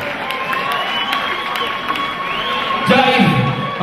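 Crowd cheering and clapping for a light heavyweight champion at a Muay Thai fight event in Melbourne, a broad hall roar under an announcer's amplified voice, swelling louder near the end.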